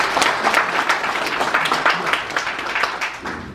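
A crowd at a conference of Korean business leaders applauds to welcome the chairman, producing continuous, lively clapping from many hands at moderate volume with no voices over it.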